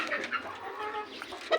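Domestic chicken clucking close by, a run of short, throaty clucks and murmurs at an uneven pace, with one sharper squawk near the end; no one speaks over it.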